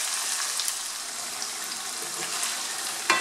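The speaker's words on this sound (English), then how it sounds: "I'm going to let this saute until the onions start to soften up." Onions sauteing in a pan for okro stew give a steady, close sizzle throughout, with a brief louder hiss or clatter near the end.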